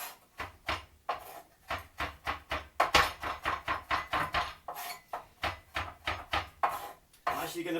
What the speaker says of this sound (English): I'm going to chop those up so they're nice and small.